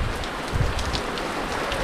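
Steady heavy rain pours down outdoors in Roraima, Brazil, a dense, even hiss of drops hitting surfaces close by, with no voices.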